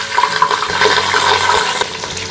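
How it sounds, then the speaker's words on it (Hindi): Rice being poured into hot ghee with cloves and cardamom for a sweet zarda dish, a rushing, sizzling cascade of grains with crackling frying noise throughout, close and fairly loud. "यहाँ पे आधे चावल मैंने डाल चुकी हूँ"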